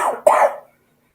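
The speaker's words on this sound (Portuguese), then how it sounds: "eu tô com uma tosse terrível" A single short, harsh cough from a person with a terrible cough during an online meeting, close and fairly loud, with a breathy onset and then quickly fading to silence.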